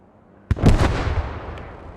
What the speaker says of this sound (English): AT guns are opening up on either us or the buildings